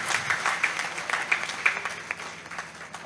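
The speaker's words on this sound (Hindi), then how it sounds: "इस बात पर इस सदन की जोरदार तालियां बनती हैं" Applause from an audience at a Hindi poetry gathering, a kavi sammelan, sounds as a steady patter of clapping held at moderate volume for about three seconds, with no talk over it.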